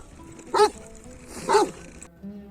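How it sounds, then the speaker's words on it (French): Guard dogs watching a sheep flock on the Anatolian steppe in Turkey give two loud, close barks about a second apart, with quiet open-air background between them. "me faisant des grands signes pour me dire attention à ces chiens de garde. Et c'est vrai, ils font un peu peur quand ils aboient."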